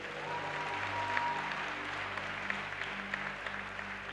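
Congregation at a church worship service applauding and acclaiming Jesus, a steady wash of clapping and crowd noise sustained throughout, fairly distant with a faint hum beneath.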